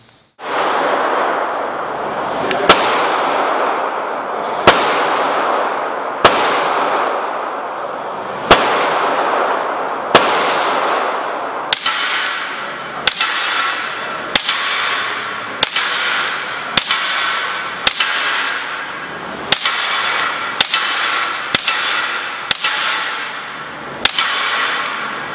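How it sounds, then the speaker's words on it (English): A 9mm pistol fires through a titanium Liberty Infiniti suppressor, about seventeen sharp muffled reports with bullets striking a backstop. The shots start spaced a few seconds apart, then come faster and more evenly, each one loud and crisp with a short decay. "the sound of the bullet hitting the backstop is louder than the sound of the gunshot going through the Infiniti"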